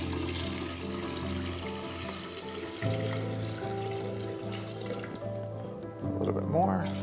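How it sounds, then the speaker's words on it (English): Water mixed with floral food pours steadily into a vase for a flower arrangement, a continuous close liquid stream over a faint tonal background that swells slightly near the end. "I've already mixed our floral food with the water. We just pour it in."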